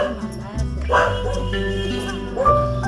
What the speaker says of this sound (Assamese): ধুনীয়াকৈ কুকুৰ আছে